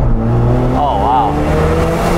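Turbocharged Mazda FC RX-7 widebody with Pandem/Greddy kit driving, a steady engine drone with a rising and falling whistle near the middle, heard from inside the car.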